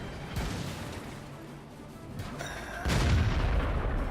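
In World of Tanks, a French BDR G1 B tank's main gun fires a single heavy, booming shot near the end, cutting through a lower rumble of engine and battlefield noise.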